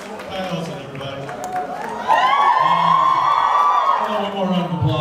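A convention crowd at a Supernatural fan panel cheers loudly and continuously, with whoops and shouts rising to a sustained roar partway through, close and dense throughout.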